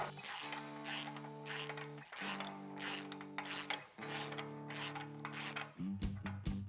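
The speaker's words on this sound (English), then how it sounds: "take an 1 5/8" socket or a 41mm socket and just tighten that down to pull that through" A ratchet wrench with a 41mm socket tightening a Tacoma front CV axle nut, rapid steady clicking in three long bursts with brief pauses, then a short faster burst at the end, close and clear.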